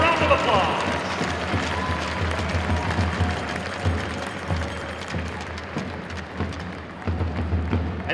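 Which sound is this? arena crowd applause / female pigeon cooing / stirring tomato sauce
arena crowd applause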